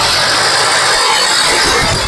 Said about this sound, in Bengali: চলুন আপনাদের ইঞ্জিনের সাউন্ড দেখিয়ে দিচ্ছি।